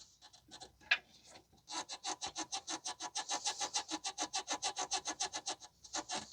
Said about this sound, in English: the control arm bushing for this one, this style is the one that makes the noise.